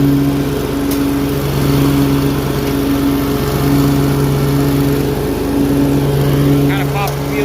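A Hustler Surfer mower-style vehicle's small engine drones steadily as it climbs a steep hill, a loud, close, constant buzz with a pulsing rhythm and no letup for the whole stretch.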